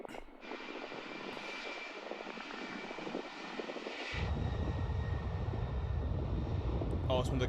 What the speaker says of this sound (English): Oh, it's one of the cargo planes for the army.